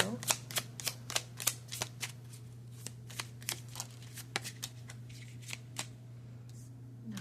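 Tarot cards being shuffled give off a string of crisp riffling snaps and flicks in an uneven rhythm, close and fairly quiet over a low steady hum.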